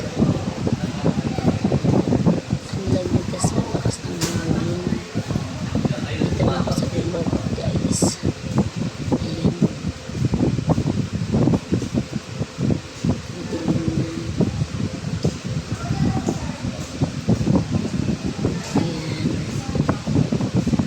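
Steady gusting wind roars outdoors in rain and cold, with rustling trees and blustery noise throughout, while a person talks over it.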